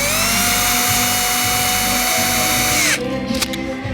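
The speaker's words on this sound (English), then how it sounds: "I'm going to set that right about there and tighten these down." A power tool drives screws into a wooden monitor stand with a close, loud, whining whir that holds steady for about three seconds, winds down and stops, followed by a few faint clicks.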